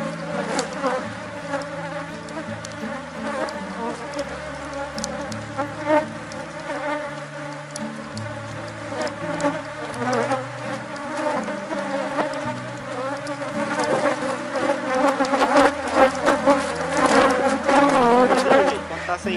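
Honeybee swarm buzzing steadily during a hive split, a dense, continuous drone of many bees close to the microphone that grows louder toward the end.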